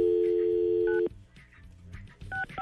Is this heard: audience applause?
no